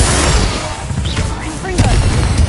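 Bombarda blasting spell going off in Hogwarts Legacy, a dense, loud rumbling burst with crashing debris, sustained across the whole moment with a heavier swell near the end.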